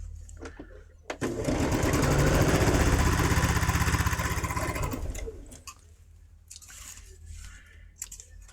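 A sewing machine stitching quilt block pieces runs in one continuous fast whirring burst of about four seconds, close and loud, then stops, leaving quieter handling noises and brief rustles.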